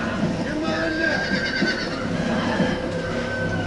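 A horse neighs and whinnies in Red Dead Redemption, loud and close with repeated snorting calls, accompanied by muffled hoof clops and steady game background noise.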